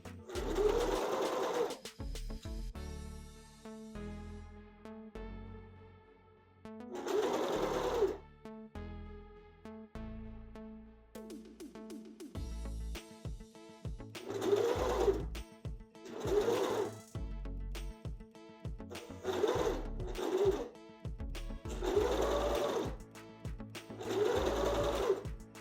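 A sewing machine stitches slippery swimwear fabric in several bursts of fast, loud whirring, separated by short pauses and quieter handling noises.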